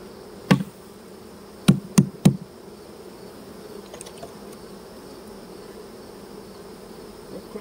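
A low steady hum of many honey bees buzzing close by in an open hive, broken by a few sharp knocks near the start.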